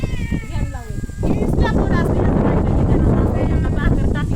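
A cat meows several times, wavering cries up close, over loud wind-like noise and some voices.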